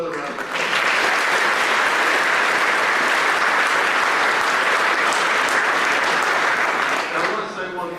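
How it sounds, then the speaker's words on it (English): An audience at a State of the County address applauds in a sustained, dense round of clapping that swells quickly and holds loud and steady for several seconds before tapering slightly. "Let's give another round of applause."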